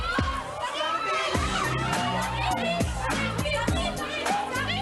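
A crowd of screaming fans, high-pitched shrieks and excited cheering from many voices, sustained and fairly close throughout.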